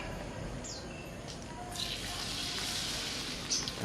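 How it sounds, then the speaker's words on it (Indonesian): Tempeh frying in oil, a steady soft sizzle and crackle at moderate distance, with light clinks and faint bird chirps in the background. "Selanjutnya kita goreng tempe"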